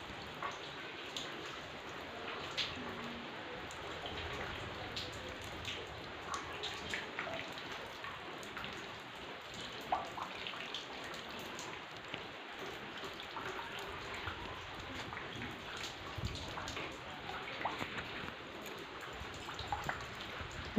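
Steady rain falls outside an old house, a dense continuous patter with scattered drop impacts throughout, moderately loud and unbroken, with no voices.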